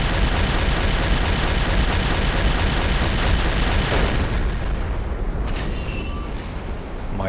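Heavy naval deck gun shells fire and burst in Silent Hunter 3, a dense, continuous roar of booms and blasts that thins after a few seconds into fainter distant rumbles and pops.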